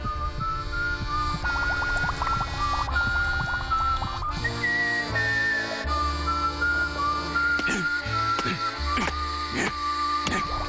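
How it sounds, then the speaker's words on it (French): Someone whistles a wavering melody of short notes over a constant mechanical hum, with a few clatters partway through. "Maintenant, sifflote bien au-dessus de la marmite."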